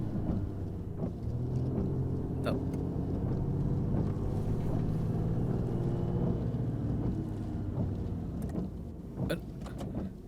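A car drives along with a low, steady engine rumble, then slows and stops, heard close and moderately quiet with a few faint clicks and knocks.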